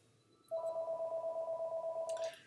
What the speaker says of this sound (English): Okay, I'll let the phone ring.